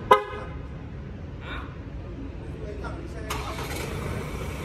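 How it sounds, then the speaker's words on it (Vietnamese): A Ford Everest is started remotely: a short horn chirp sounds first, then after a pause the engine cranks and catches into a low, steady idle, with a voice faintly present. "Xe động cơ đã khởi động nhá"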